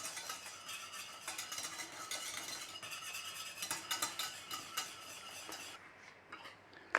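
A spoon stirs a thick white sauce for Teesside chicken parmo in a pan on the heat, with continuous scraping and soft clinks against the metal, close and fairly quiet, and a faint sizzle underneath.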